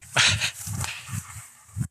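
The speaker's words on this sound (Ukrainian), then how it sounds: "Це зараз собака породи американський стафорський тер'єр радісно бігає подвір'ям нових господарів" An American Staffordshire terrier dog, about three years old, barks and huffs in several close, loud bursts with short gaps while running around a yard.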